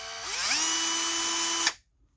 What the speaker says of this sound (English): I'll let you hear the motor running here.